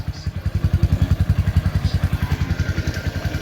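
A Kawasaki CT100A motorcycle engine runs with a steady, rapid thumping pulse, close and moderately loud, an even single-cylinder beat holding throughout.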